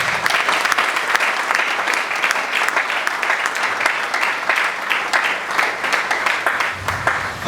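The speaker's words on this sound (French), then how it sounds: "Est-ce que nous pouvons accepter de les applaudir?" An audience at a pastors' plenary session in Kinshasa applauds steadily, dense clapping holding at a constant level throughout with no talk over it.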